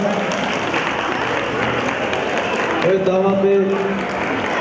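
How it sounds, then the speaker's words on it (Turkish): Guests at an Urfa-Antep wedding clap loudly and continuously for the bride and groom's first dance, a full crowd applause under an announcer's voice speaking over a microphone. "Şöyle kuvvetli bir alkış alalım gençliklerimize."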